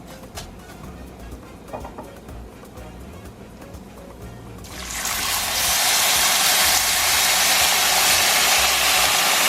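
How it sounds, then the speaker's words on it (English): Water pouring into a pot holding a cup of rice, a steady broadband rush that starts about halfway through and stays loud and constant to the end, after a quieter stretch of faint kitchen noise. "We're gonna add 2 cups of water."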